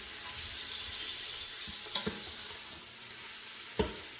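Steady hissing sizzle of ground beef frying in a pressure cooker, with a few clinks of a utensil against the pot, close and continuous without speech.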